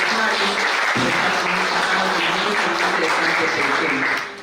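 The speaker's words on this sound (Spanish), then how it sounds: "por favor, un fuerte voto de aplausos" An audience applauds after a lecture on Peruvian judicial reform. The clapping is steady and dense for several seconds and fades at the end, with a low tonal hum underneath.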